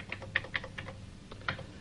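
Keystrokes on a 1983-era computer keyboard as someone types to converse with the ELIZA program, a handful of crisp, irregularly spaced clicks up close in a quiet room, without speech.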